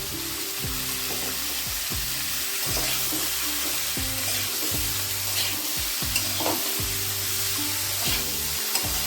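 Amla pieces are stirred with salt and turmeric in a hot pan, giving a steady sizzle under repeated rhythmic scraping sweeps of a spatula against the pan, close and continuous for several seconds with no talk.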